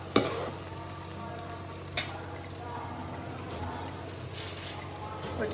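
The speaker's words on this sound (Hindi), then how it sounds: "और अभी हमारी ऑनियन हो रही है फ्राई।" Onions fry in a pan with a steady, close sizzle throughout, broken by a few sharp clinks of a utensil against the pan and no voice.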